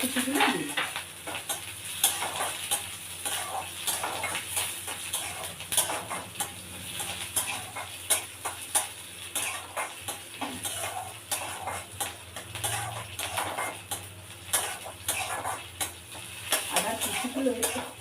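Mustard seeds, chopped ginger and green chili frying in a pan, a steady sizzle broken by repeated scrapes and clinks of a spoon stirring against the pot throughout, with no talk.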